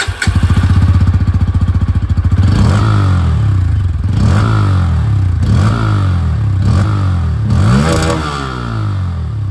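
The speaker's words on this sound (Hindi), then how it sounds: "तो ये दोस्तों जो अंडरव्हील एग्जॉस्ट था ये आप लोगों ने यहाँ पर सुन लिया है।" A Bajaj Pulsar N160 motorcycle with an underbelly exhaust idles loud and close, a steady throbbing burble broken by several sharp throttle blips, with no talk over it.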